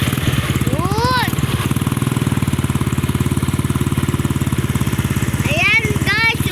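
A motorcycle engine idles steadily and loud up close with a fast, even firing beat after fitting a new ignition coil and spark plugs, while people talk and sharp whistling chirps rise briefly over it.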